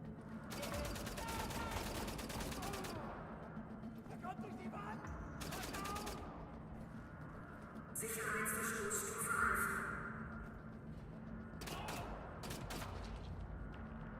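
Rifle fire in a video game crackles in bursts of rapid shots, loud and close, with a talking voice and game sounds in between.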